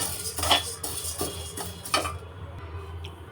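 Chana dal dry roasting in a pan for sambar powder, with scattered clinks and scrapes of a utensil against the pan over a low steady background, moderately quiet.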